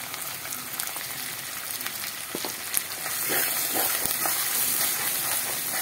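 A paste of chilli, cumin and coriander powders mixed in water sizzles loudly in a pan of hot oil for a Bengali prawn and jackfruit kosha. The hissing grows louder partway through, with a few scraping stirs under a dense, steady fry.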